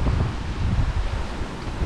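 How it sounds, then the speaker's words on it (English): Ocean waves and steady wind roar around a sailing boat on an Atlantic passage, with a forward swell and following seas, producing a dense, continuous wash of rushing noise with no talk. "there's a swell coming from our forward starboard side, as well as waves behind us"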